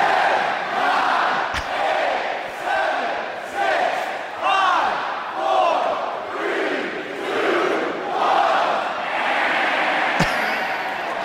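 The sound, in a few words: wrestling event crowd chanting a countdown, played from a fan video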